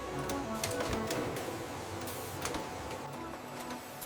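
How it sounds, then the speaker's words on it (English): Face mask production machine ultrasonically welding the left ear loop onto masks: a steady, dense mechanical clatter with rapid ticking impacts running continuously and fairly quietly throughout. "The left ear loop is welded securely using ultrasonic technology."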